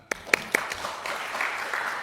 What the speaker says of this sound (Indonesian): Terima kasih Pak Julius Ibrani, kita kasih tepuk tangan